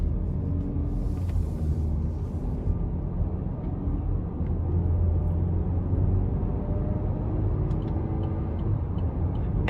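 A 2020 Chevy Blazer's 2.5-liter non-turbo four-cylinder engine accelerates under a steady, continuous low rumble with road noise throughout, heard from inside the cabin with no voices.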